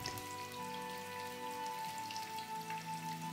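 Spices and chillies frying in a pan for chana pulao give a steady, crackling sizzle that continues without a break. There is no talk, only the constant hiss of the oil.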